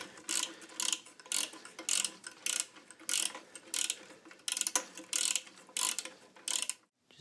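A ratchet wrench with a 13mm socket clicks in quick repeated bursts, about a dozen short strokes, while tightening a bolt on a front-mount intercooler bracket. The clicking is close and alone, with no talking.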